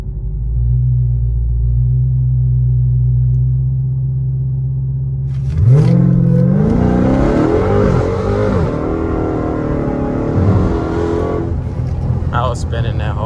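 A Dodge Charger Hellcat Redeye idles with a deep steady rumble, then launches hard in track mode around six seconds, its supercharged engine roaring loudly as revs climb through gear changes, with tires spinning.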